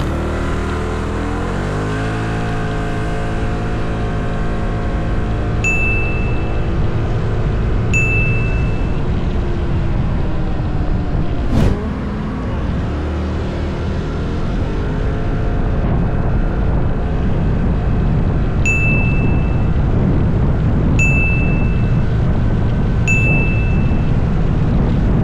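An ATR 160 adventure scooter engine pulls hard, its loud drone climbing in pitch through repeated accelerations. Short high beeps sound now and then over the steady roar.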